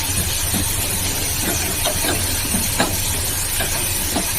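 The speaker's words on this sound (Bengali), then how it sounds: "আগে চিংড়ি মাছগুলোকে ভাজি দেবো।" Shrimp frying in a hot pan for a potato-and-prawn curry, a steady loud sizzle and hiss with faint crackles and pops throughout, no talk.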